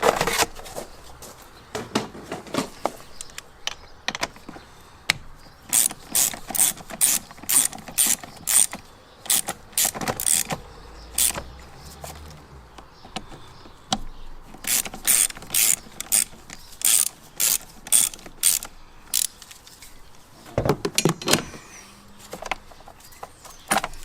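A ratchet wrench works a battery terminal on a VW Golf MK4, rapid clicking bursts repeated in short runs with brief pauses between, close and crisp, no speech.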